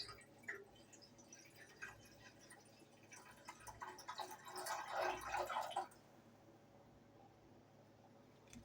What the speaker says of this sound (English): I'm using the camera to pour the water into the pot and not elsewheres.